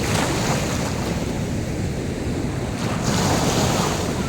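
Sea waves washing onto a white-sand beach in Gunungkidul, a broad steady roar of surf mixed with heavy wind buffeting the microphone, loud and continuous with no voices.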